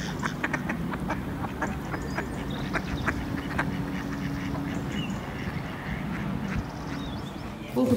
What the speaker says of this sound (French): C'est qu'il y en a plein des canards par ici.